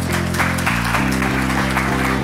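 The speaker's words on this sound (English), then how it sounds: "would you please welcome with a warm," An audience applauds as a speaker is welcomed on stage, with steady clapping layered over loud, rhythmic walk-on music that runs throughout.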